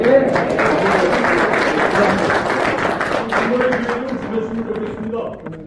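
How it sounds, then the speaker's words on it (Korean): A lecture audience claps together in dense, sustained applause closing a talk, gradually thinning out and fading, with voices talking over it near the end. "다 같이 박수 한번 마치도록 하겠습니다"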